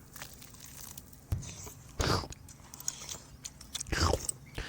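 Someone chews a mouthful of cooked tripe: a handful of wet, crunchy bites and mastication sounds recur at irregular intervals, close to the microphone, with no talking.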